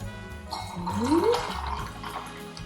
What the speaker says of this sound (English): I've gone for a Fever Tree Indian tonic water. Pop this in.